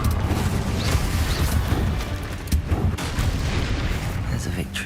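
Confringo explosive fire spell blasts in Hogwarts Legacy, rumbling booms and crackling bursts in a dense, continuous stream of combat noise.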